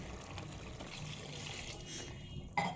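Water is poured into a pot of rice and partly cooked avarekalu beans for pulao, a soft continuous trickle that is faint and quiet, ending with a small clank.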